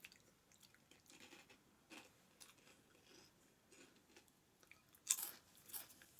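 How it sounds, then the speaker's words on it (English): Crunchy gluten-free onion rings are eaten, with quiet close bites and chewing crunches, ending in a louder crisp bite near the end. "That is a real crisp onion ring."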